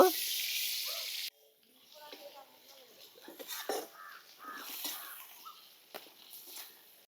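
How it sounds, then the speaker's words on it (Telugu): Washed dried fish fry in hot oil with a loud, hissing sizzle that lasts about a second before cutting off abruptly, followed by speech over faint kitchen noise. "ఇప్పుడు అదే నూనెలో కడిగి పెట్టుకున్న నెత్తల్లో కూడా వేపుకోవాలండి ఒక రౌండ్"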